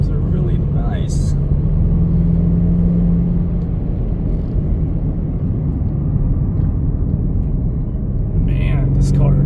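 Steady engine and road rumble from a 2024 Ford Mustang convertible driving at night, a continuous loud drone with a low hum throughout, with brief voices briefly audible near the start and end.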